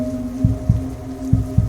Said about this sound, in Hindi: गाड़ी की स्पीड के साथ मेरे दिल की धड़कनें भी बढ़ रही